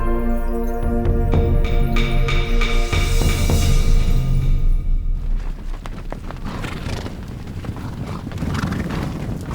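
Horses in Mongolia, with loud hoofbeats and animal sounds filling the first half, then fading into a rougher, windy outdoor rumble with scattered movement noises.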